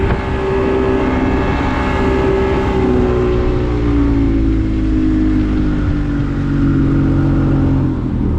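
A steady engine drone from a 1971 Boston Whaler Sport's outboard engine runs throughout, a low continuous hum with a smooth, even idle and no voices.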